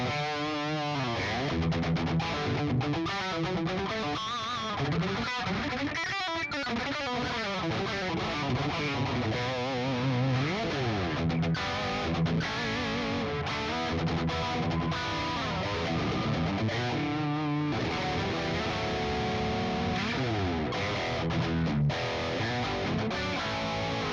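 Electric guitar in B standard tuning run through a Quad Cortex preset, heavily distorted riffing with fast picked runs, bends and chugging chords, loud and continuous throughout without talking.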